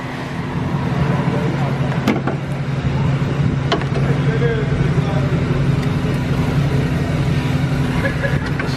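A Jeep Compass engine idles with a steady, low, continuous rumble at close range, holding even throughout without cutting out, while muffled voices murmur faintly in the background.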